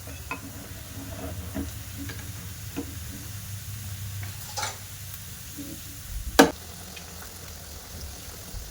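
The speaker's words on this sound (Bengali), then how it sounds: "দিয়ে লাল লাল করে ভাজা করে নেব।" Semolina pitha frying in oil makes a soft, low sizzle with scattered pops and a sharp clack near the end, fairly quiet and close, with no talking.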